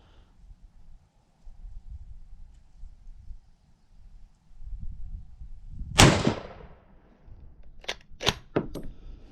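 Rifle shots from a Yugoslavian 24/47 Mauser firing M49 surplus ammunition outdoors: one loud sharp report followed by three more rapid cracks a second or two later, over low rumbling background noise.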